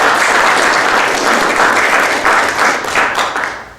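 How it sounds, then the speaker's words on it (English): Sustained applause from a small audience at an inventor workshop talk, steady dense clapping throughout that swells slightly toward the end. "round of applause to Mr. Tom Franklin."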